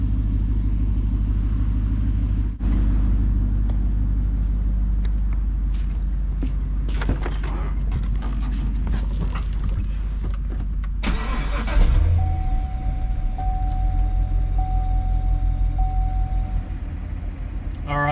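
A Corvette with a cross-plane crankshaft V8 idles and warms up with a deep, steady rumble that swells and holds loud. A faint whining tone runs through the second half.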